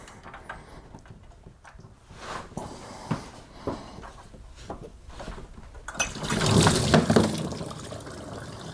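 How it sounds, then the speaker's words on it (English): Engine fluid pours from a loosened hose on a Pontiac Grand Prix with an LS4 engine during an engine pull, a splashing, gurgling stream that swells loudest near the end after quieter drips and clanks. "Just pull down on your hose slowly, and then the fluid will drain out."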